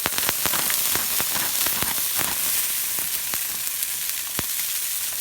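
Bean sprouts sizzle in sesame oil in a wok, a close, steady bright frying hiss broken by scattered sharp crackles and pops, with no voices.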